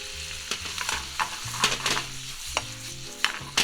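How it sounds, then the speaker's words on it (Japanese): Boiled octopus stir-fried in a hot pan over medium heat, with a steady sizzle and repeated scraping and tossing strokes of the stirring utensil, close up and with no talking. "火を中火にして、でさらに軽く炒めて合わせていきます。"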